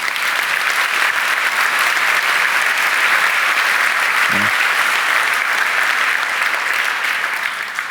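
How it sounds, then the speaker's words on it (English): Steady, dense applause from a conference audience, loud and sustained across the whole stretch with no talk over it, tapering slightly at the end. "I want that we all applaud Thomas, because Thomas built all of these things."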